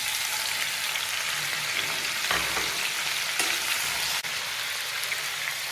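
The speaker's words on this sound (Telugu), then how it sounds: "మళ్ళీ స్టవ్ వెలిగించుకొని ఇదే ఆయిల్లో 4 కట్ చేసుకున్న టమాటా ముక్కలు వేసుకోవాలి" Four chopped tomatoes dropped into leftover hot oil fry with a loud, dense, continuous sizzle and crackle, with a couple of brief clatters partway through.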